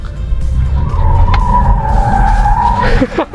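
A 2022 BMW 530e M Sport LCI with traction control switched off squeals its tires loudly through a hard U-turn, a sustained close screech over engine rumble.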